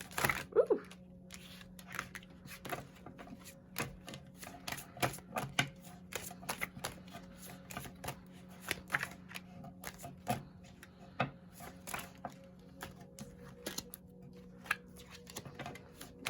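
Tarot cards are riffled and handled in a steady run of crisp, close clicks and flutters, with a faint background hum throughout.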